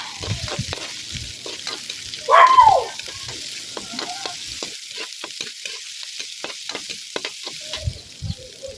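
Onion, ginger and red and green bell peppers sauté in a pan, giving a steady sizzle broken by repeated scraping stirs of a utensil, with one louder burst of frying partway through; no one speaks.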